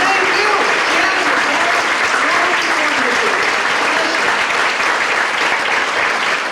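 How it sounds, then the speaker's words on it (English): An audience at an evening church concert of Broadway hits applauds, a dense, steady wash of clapping that stays loud and even for the whole stretch. "So let's give ourselves a round of applause as well."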